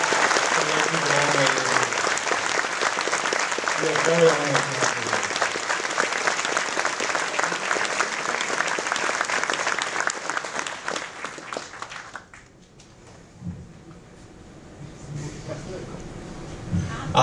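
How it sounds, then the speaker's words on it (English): Loud, dense applause and cheering from a large convention audience at an opening ceremony, with a voice speaking over it, before the clapping drops away and someone speaks briefly. "So give him a big round of applause."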